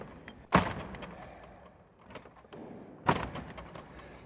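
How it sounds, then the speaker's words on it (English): Two sharp door bangs sound inside a church at night, a few seconds apart, each a single hollow thud against a faint, quiet background. "Both doors, or was it one door?"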